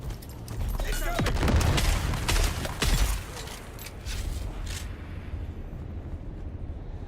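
An explosion goes off in the survival game Dune: Awakening amid a burst of rapid gunfire-like cracks and booms, loud and close, then settles into a rumbling game backdrop.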